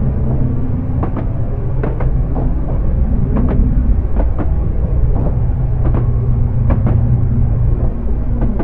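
A train in the Train Simulator video game rolls along with a loud, steady low rumble and repeated rhythmic clickety-clack of wheels over rail joints, heard alone.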